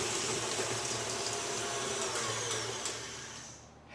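An electric stand mixer creams butter and sugars in a mixing bowl for a banana nut bread batter, giving a steady, close motor whir with a faint buzzing hum that runs unbroken before cutting off.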